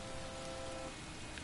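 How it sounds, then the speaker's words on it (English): Rain falls in the video game LA Noire as a steady, even hiss of drops, continuous and fairly soft for a second and a half, with no voices. "Oh, it's raining now."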